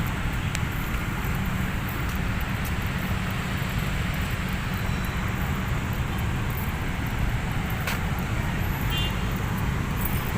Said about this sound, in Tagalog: Yan, traffic.